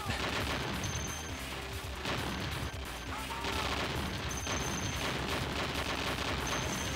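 Dense, continuous barrage of explosions and rapid gunfire from a bomb attack in a shoot-'em-up arcade game such as Giga Wing, a loud, sustained wall of blasts and shots.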